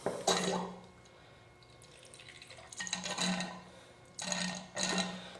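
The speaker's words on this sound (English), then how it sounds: "Takes a good amount of coolant for this reservoir to fill up." Coolant pouring into a PC water-cooling reservoir during a case build, heard as splashy liquid bursts that start and stop several times with quieter trickling gaps between, fairly close.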